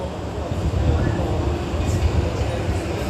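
A brand-new Kawasaki 8-car Washington DC Metro train gives a continuous low rumble close by, with a faint high squeal and some voices in the background.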